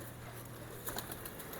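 Pigeons cooing faintly at their breeding spot, a soft, low murmur under steady background noise with a slightly clearer burst near the middle; no one speaks.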